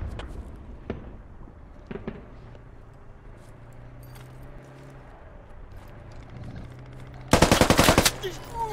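A sustained burst of automatic gunfire in the military shooter game Squad aimed at a vehicle's tires, loud and rapid near the end, preceded by quieter scattered clicks and distant shots.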